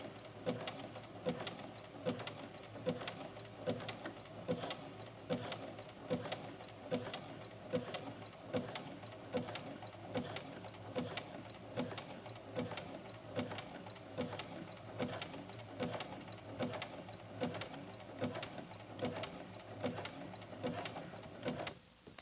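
A sewing machine zigzag stitching backward over elastic, a steady rapid mechanical clatter with even rhythmic pulses running continuously, fairly quiet and close with no talking.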